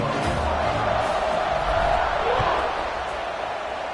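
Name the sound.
stadium crowd cheering at kickoff in College Football 26 video game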